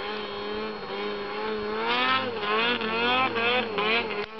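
A snowmobile engine runs nearby in the snow, its motor droning with rising and falling revs that climb to a louder whine before cutting off sharply at the end.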